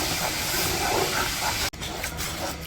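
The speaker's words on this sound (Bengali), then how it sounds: "এই যে মশলাটা কষে নিচ্ছি" Spice paste for chicken biryani fries in a pan, giving a steady loud sizzling hiss throughout with a brief cut near the end.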